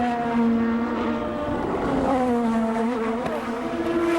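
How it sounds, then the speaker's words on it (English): IndyCar race car at the Chevrolet Detroit Grand Prix, its engine screaming loud and close with steady high-pitched harmonics that dip and climb as it shifts and accelerates on a fast lap. "need a really fast in-lap"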